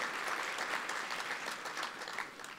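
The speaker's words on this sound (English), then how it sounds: "could you give Rob Portman another round of applause for being an incredible advocate on trade?" An annual trade dinner audience gives a senator a round of applause, a sustained even patter of many hands clapping throughout, moderately distant and without a break.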